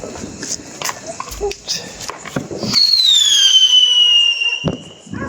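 Diwali firecrackers go off in a string of sharp, loud bangs, then a long, high whistle glides downward as another firework flies. Voices talk and call out underneath.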